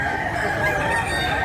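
A fighting cock gives a loud, close crow that holds for about a second and a half over steady background noise, heard where cheap roosters are sold.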